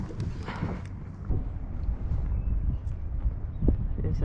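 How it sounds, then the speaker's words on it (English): A southerly wind buffets the microphone with low rumbling gusts on open water at Pittwater during kayak fishing, and light clatter sounds under it. "There's that southerly wind coming to say hello."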